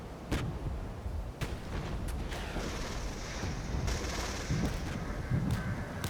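Shilka anti-aircraft guns fire in a WW3 video game, heard as scattered, fairly faint bursts and thuds over a low rumbling battlefield background.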